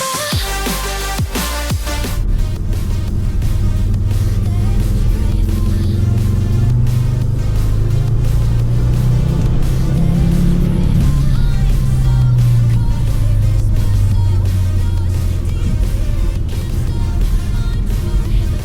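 A car engine runs and revs steadily for the whole stretch, loud and close, its pitch rising and falling under a constant mechanical drone with no talking.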